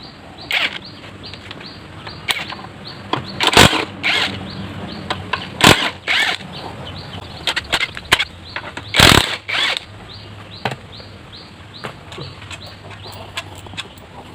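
A wrench loosens 12 mm bolts on a Honda GX200 small engine used to power a small boat. Sharp ratcheting clicks and metallic clanks come in irregular bursts close to the microphone, with no talking.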